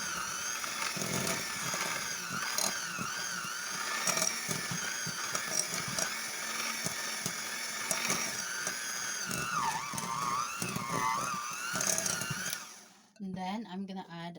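Lime cake batter of creamed sugar and lemon zest being mixed, a loud, steady machine whir that runs without a break for about thirteen seconds, then cuts off into quieter clatter at the end.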